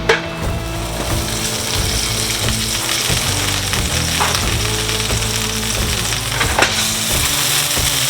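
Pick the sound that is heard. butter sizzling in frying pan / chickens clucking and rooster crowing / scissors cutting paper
butter sizzling in frying pan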